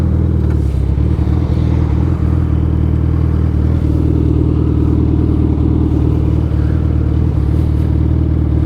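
A motorcycle ridden on a hot mountain road from Delhi toward Theog, with the engine droning loud and steady and close up throughout, mixed with rumbling wind and road noise.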